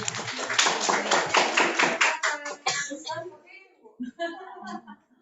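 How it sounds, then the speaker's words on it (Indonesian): A twelfth-grade science class breaks into about three seconds of dense, rapid clapping for a classmate, which then fades into a few scattered claps and nearby talking. "Ya, tepuk tangan buat Clara."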